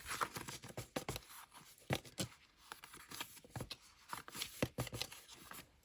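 Paper being cut all at once for faux envelopes in a junk journal craft, close, quiet crisp snips and rustles in an irregular run with no talk.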